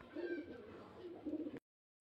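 Pigeons coo in a close, steady low murmur of soft repeated calls, then fall abruptly silent near the end.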